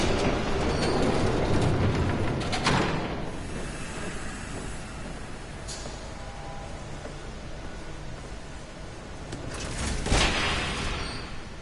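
A train approaching in Batman: The Telltale Series, a broad rumbling roar of rolling wheels and rail noise that holds steady throughout, with brief louder bursts near the start and again toward the end.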